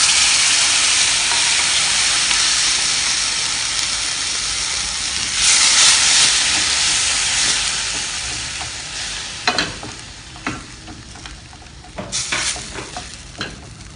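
Ground tomato fries with spice powders in a hot pan for a mushroom masala, giving a loud, steady sizzle and hiss that swells midway, then breaks into scraping stirs and clatters toward the end.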